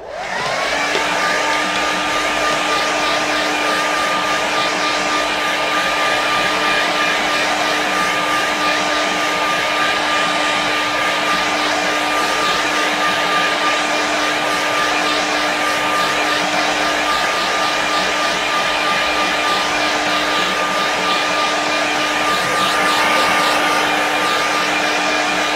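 A hair dryer blows steadily on a watercolour painting for the whole stretch, a constant, fairly loud whirring hum with a high whine and no pauses or talk.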